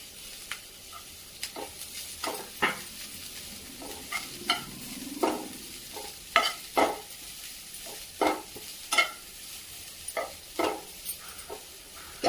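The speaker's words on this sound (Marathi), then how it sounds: "कांदा परतल्यानंतर त्यामध्ये हा उभा चिरून घेतलेला कोबी पण टाकून घेऊया" Onion and sliced cabbage sautéing in a pan, a soft continuous sizzle punctuated by regular clinks and scrapes of a spatula stirring, close up with no talking.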